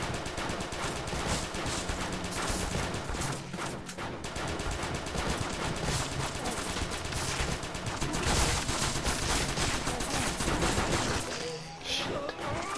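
Rapid continuous gunfire from a weak gun in the PS4 game Crimsonland, a dense, steady stream of shots filling the whole stretch at even loudness with only a brief dip near the end.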